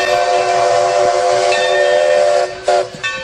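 A steam locomotive's loud, steady whistle blows with hissing steam beneath it, cutting briefly before sounding again, close and prominent, at Old Saybrook, Connecticut.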